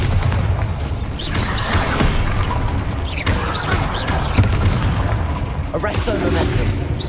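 Bombarda spell blasts in the video game Hogwarts Legacy, heavy booms and crashes rolling through a dense, continuous battle din alongside other spell effects, with a voice speaking over the chaos.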